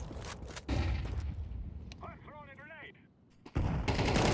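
Gunshots in an Overwatch match, loud clustered bursts at the start and again near the end, with a stretch of muffled speech in between.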